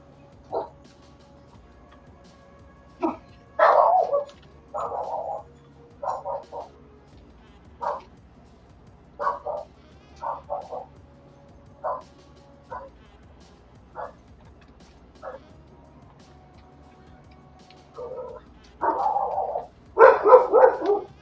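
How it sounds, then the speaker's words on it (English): Dogs bark in short, separate bursts scattered at an uneven pace, with a denser cluster of barks near the end, heard fairly close in an otherwise quiet room. "Dogs love to bark."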